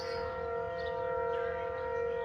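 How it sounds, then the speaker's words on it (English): A steady wailing tornado siren drones continuously, distant and moderately loud, with no voices. "Oh, it's the tornado sirens."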